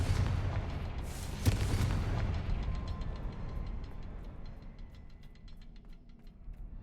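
A Confringo blast spell explodes in the Hogwarts Legacy video game inside a cavern, a loud booming burst near the start followed by a sharper crack around the midpoint, with a rumbling tail that slowly fades.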